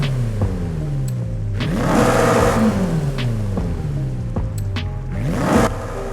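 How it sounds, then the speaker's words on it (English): A 2022 BMW M5 CS in a racing video game revs repeatedly, its engine climbing and falling in pitch through several sweeping rises with gear-change drops, a loud, smooth, continuous exhaust drone with no talking. "we will take a listen to the exhaust notes just to see if it's a little bit different"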